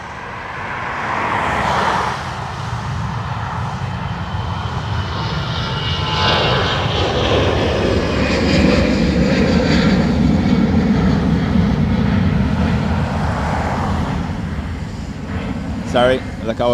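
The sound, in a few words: aircraft turning off the runway at Dublin Airport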